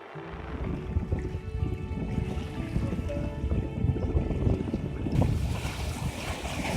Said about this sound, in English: we set sail again towards the much less known and deserted island of Dhokos